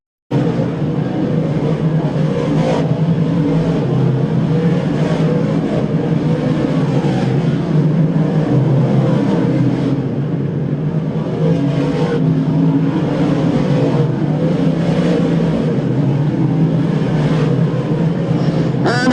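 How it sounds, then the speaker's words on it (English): Race cars roar around Woodhull Raceway in a stock car event, a loud continuous engine drone with rising and falling revs as the pack passes through the turns. "Gary Tompkins continues to lead laps here in the Big Show 5 as he brings them down into turn number 3."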